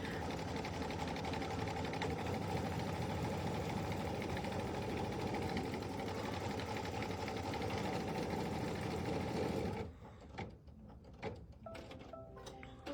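Embroidery sewing machine stitching out a patriotic design, a steady, loud mechanical whir with rapid stitching pulses running continuously, then cutting off abruptly near the end, leaving only faint scattered handling sounds.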